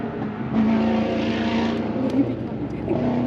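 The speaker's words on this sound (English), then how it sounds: "Miata going for the inside." A Mazda Miata race car drones with a steady engine note on a track during a track day, heard over a sustained mix of engine noise, with people talking over it.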